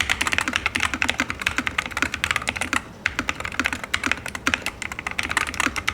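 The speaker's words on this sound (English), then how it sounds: "Here's a typing test sound." Rapid, continuous typing on a wireless mechanical keyboard fitted with Sunset keycaps, each keystroke a crisp, close clicky-clacky tap in an uneven rhythm, with a short pause midway before the typing resumes.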